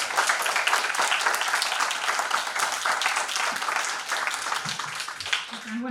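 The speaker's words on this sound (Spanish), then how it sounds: "Un fuerte aplauso," Warm audience applause for a book author at a book presentation, dense and loud clapping from a full room holding steady throughout, easing slightly near the end as a voice begins.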